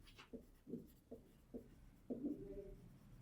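Pen writing on paper while working a Class 10 linear equations problem, a few short scratchy strokes in uneven rhythm, close but soft, ending in a longer stroke, with no talk.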